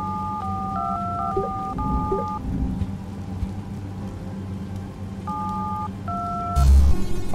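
A phone box telephone being dialed in the game Mr. Hack Jack Robot Detective, a series of clear paired touch-tone beeps in an uneven sequence over a low rumbling ambience of rain and thunder, ending with a louder burst.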